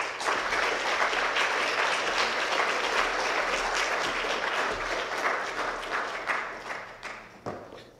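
An audience at CCA applauds to welcome a speaker, a steady full round of clapping that holds for several seconds and then thins out toward the end.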